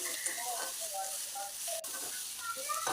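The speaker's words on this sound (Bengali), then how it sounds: "কাঁচা লঙ্কাগুলো দিয়ে দিলাম দিয়ে সজনে পাতাগুলো ভেজে নেব গ্যাসের ফ্লেম একদম মিডিয়ামে রেখেছি" Drumstick leaves and green chillies frying in oil over a medium gas flame give a steady sizzle and hiss, with a few scattered spoon stirs and scrapes.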